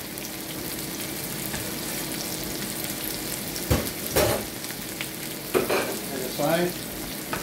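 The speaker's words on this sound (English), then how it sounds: "We'll saute it a little bit." Garlic and onions sauté in a pan with a steady, continuous sizzle and frying hiss, broken by a few louder stirring scrapes and clatters near the end, with a brief spoken phrase over it.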